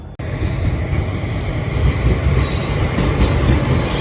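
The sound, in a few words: passenger train arriving from the other side at crossing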